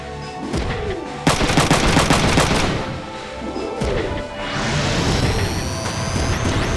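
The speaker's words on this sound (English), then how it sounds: "Oh, no more shooting bang-bangs for you." Gunfire in the video game Front Mission 3 comes as loud, dense bursts of rapid shots and booming impacts, running almost without pause under a layer of game music and effects.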